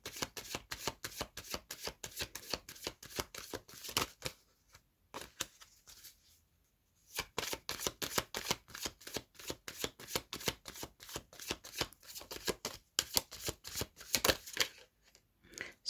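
A Numinous Astro tarot deck being shuffled: rapid, even riffling card flutters run continuously and close, pause briefly around five to seven seconds, then resume just as quickly and steadily to the end, with no talking.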